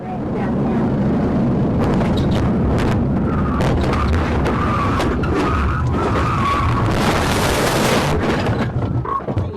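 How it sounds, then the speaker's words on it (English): A police pit maneuver sends a suspect's car spinning out into a concrete barrier: loud tire screeching and engine noise build to sharp impact bangs, while voices talk faintly underneath. "The pit maneuver caused the suspect's vehicle to spin out and crash into a concrete barrier"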